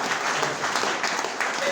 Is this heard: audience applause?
yes